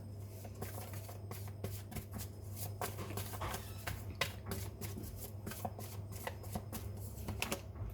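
A deck of tarot cards is shuffled close up, giving quick, rapid papery riffles and flicks in a steady rhythm over a low electrical hum.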